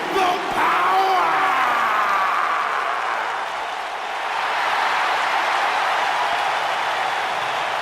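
Crowd applause and cheering from a WWE 2K19 wrestling arena, a loud, continuous wash of clapping and shouting that swells early and then holds steady throughout.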